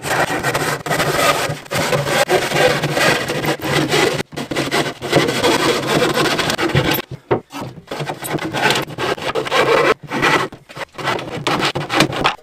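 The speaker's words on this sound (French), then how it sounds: "Je viens de finir de découper la planche avec la chute qu'il y a." A handsaw cuts off the end of a protruding wooden board, a steady run of loud, rasping back-and-forth strokes with a few brief pauses partway through.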